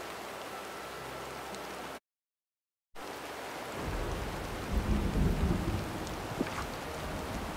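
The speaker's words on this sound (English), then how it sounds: "it's legit thunder in your valley right now" Thunder rumbles beneath steady rain in the Disney Dreamlight Valley video game, a dense continuous hiss with a brief dropout, then a deep rolling rumble swelling louder through the second half, no talking.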